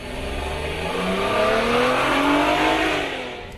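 A Mercedes-Benz ML350 with a 3.5-liter V6 and 7-speed automatic accelerates steadily, its engine note rising and swelling over a few seconds before easing off, heard from inside the cabin with road noise.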